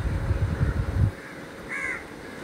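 A crow caws once near a house visited by peacocks. The single clear call comes after a second of low rumbling background noise and stands alone with no voices.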